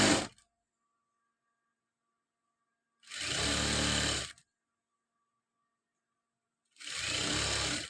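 A sewing machine stitches a chudidar sleeve in three separate short runs of steady motor hum and needle chatter, each lasting about a second, with silence between them.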